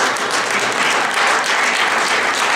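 Audience at an economics humor session breaking into loud, dense, sustained applause, many hands clapping continuously with no pause.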